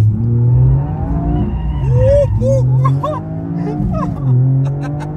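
An Abarth 695 Rivale limited edition with an Akrapovic exhaust drives by with a loud, low engine drone that swells and eases, with voices talking over it.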